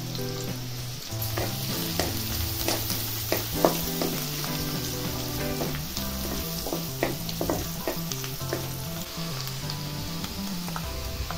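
Onion and turmeric frying in oil with mustard seeds and cumin in a pan, a loud, continuous close sizzle with busy stirring scrapes throughout and no talking.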